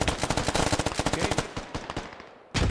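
Rapid automatic gunfire in a squad-based video game shooter, a loud close burst of many quick shots in a fast rhythm that thins into scattered pops, followed by a short pause and one more heavy blast.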